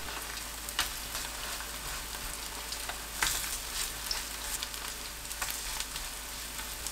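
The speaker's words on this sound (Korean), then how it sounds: "중불로 위아래 노릇하게 붙여내세요" Eggplant and onion pancakes sizzle and fry steadily in a hot oiled pan over medium heat, a close, continuous crackle with occasional louder pops and no voices.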